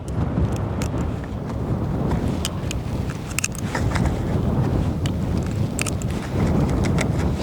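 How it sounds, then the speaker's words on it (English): Strong outdoor wind roaring and buffeting against a microphone, a loud steady rumble with gusting surges and occasional crackles, no talking. "God, the wind has really picked up."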